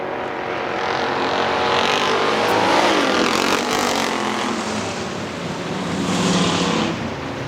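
Factory stock race cars, including a 1958 Chevy, roar around the Hartford Speedway oval, a loud, steady wash of engine noise that swells as a pack sweeps past, with no talking.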